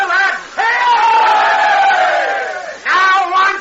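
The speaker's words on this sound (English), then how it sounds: "Give the colonel a cheer, lads!" A regiment of soldiers at Fort Malden shouts a loud, close cheer for their colonel in a drawn-out chorus of many voices, then breaks into a second, shorter burst.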